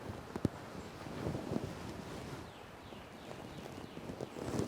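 Gusty wind buffeting outdoors, a rough, uneven rush with a few faint knocks and thumps, no voices.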